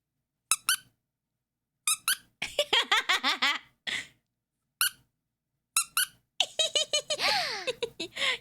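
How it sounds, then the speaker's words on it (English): Squeaker sewn into the cheek of a plush onion toy, squeezed repeatedly in short bursts and quick runs of sharp high squeaks with silent gaps between, loud and close. "you want to hear a squeak?"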